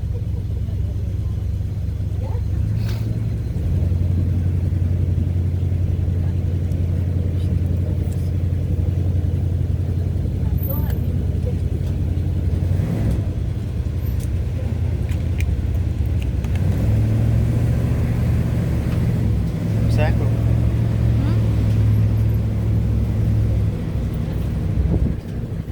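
Cars in traffic heard from aboard a trolley in Sedona, Arizona: a continuous low engine rumble with droning hum and occasional passing swells, steady throughout.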